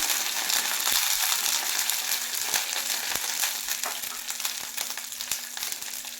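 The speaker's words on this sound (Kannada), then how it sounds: "ಈ ಎಣ್ಣೆಗೆ ಕರ್ಬೇವಿನ ಸೊಪ್ಪು ಹಾಕೊಳ್ತಾ ಇದ್ದೀನಿ" Curry leaves crackle and spit in hot oil, a dense, loud sizzle running steadily throughout with sharp popping bursts scattered over it.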